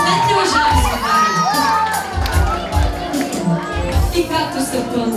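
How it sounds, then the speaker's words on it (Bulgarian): Wedding guests cheer and shout in a loud, busy crowd, with children's voices mixed in and sustained noisy celebration throughout. "Аплодисменти, уважаеми сватбари!"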